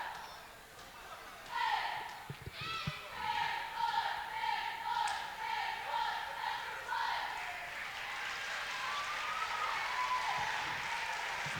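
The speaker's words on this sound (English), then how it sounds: "they draw a nice round of applause from the appreciative fans" Fans in a high school gym applaud the East Brunswick varsity cheerleaders during a boys basketball game against Bishop Ahr, a steady wash of clapping and crowd noise with cheers rising over it, heard from a distance under a commentator's voice.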